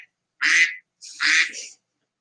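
A duck quack sound effect gives two short, nasal quacks with a brief gap between them, heard alone against silence.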